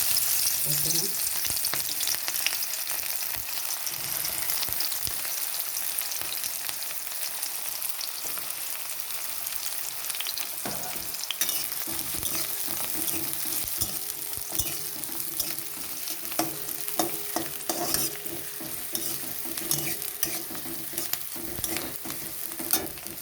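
Chopped onion hitting hot oil in a pan for a homemade vegetable pasta, crackling in a steady, close sizzle with scattered pops and occasional utensil scrapes across the whole stretch, no voices.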